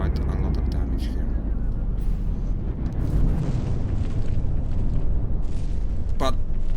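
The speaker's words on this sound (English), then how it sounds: "the missile salvo from the Vodnar, I'm suspecting, is causing pure devastation on the Hippatos" Missile salvo explosions from the Vodnar hitting the Hippatos in the From the Depths video game, a continuous loud roar of overlapping booms and rumbling blasts, with a voice talking over the din.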